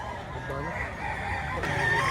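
A Golden Boy Sweater gamecock crows at the Lipa, Batangas chicken market, a close, drawn-out call over market background noise and faint voices.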